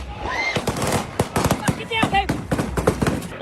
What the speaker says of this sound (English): I just started hearing gunshots.